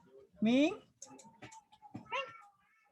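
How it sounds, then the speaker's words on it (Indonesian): A cat meows indoors, one loud rising meow followed by a softer second one, heard close among brief bits of a person's speech and light tapping. "ada kucing. Manjat-manjat dia."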